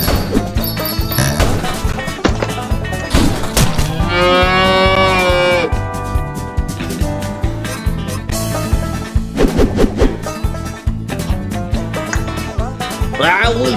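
Cartoonish cow moos from the Run Cow Run video game ring out repeatedly over bouncy game music, with crashes and thwacks scattered between them, loud and close.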